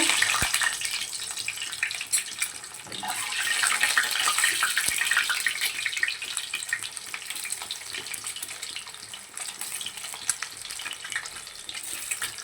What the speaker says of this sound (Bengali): আমি এখানে তেল গরম করতে দিয়ে দিয়েছি আমি এই ডিমগুলোকে একটু হালকাভাবে ভেজে নেবো